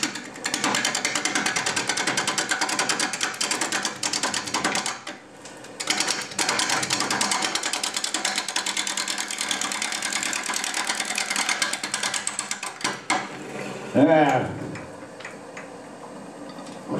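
A wood lathe turning a natural edge offset bowl, the gouge chattering against the wood in a dense, rapid, continuous rattle that pauses briefly and resumes, ending in a short scraping swirl.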